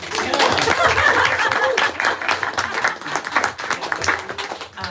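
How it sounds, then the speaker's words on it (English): An audience applauds at a literary event featuring author Helen Ellis, dense clapping mixed with some laughter and a few voices underneath, loud and sustained throughout. "You can applaud."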